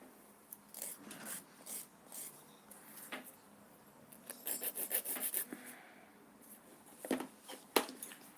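Gel nails coated with glitter are filed in short, quiet rasping strokes, close and irregular, with soft handling sounds between the passes.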